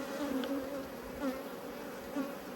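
Honey bees from an opened hive make a dense, continuous buzz, a close and constant drone with wavering pitch as many insects swirl into the air, and no talk over it.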